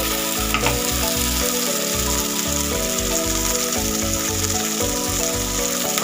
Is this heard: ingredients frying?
yes